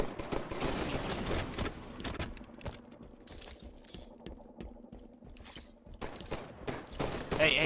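Bursts of gunfire in the Halo video game, a dense rattling fusillade of rapid shots with mechanical clatter, loud and continuous, easing slightly in the middle before building again.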